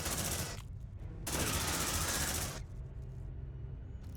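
Sentry guns in the video game Aliens: Colonial Marines firing in dense automatic bursts, a loud harsh rattle that comes in two long stretches separated by a short pause, with no talk.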